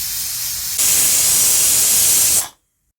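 A pressure cooker venting steam in a loud, continuous hiss that intensifies partway through, then stops abruptly, leaving silence.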